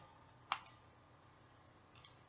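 Faint, crisp computer mouse clicks while copying and pasting an image, with one sharp double click early and a single softer click a moment later in a quiet room.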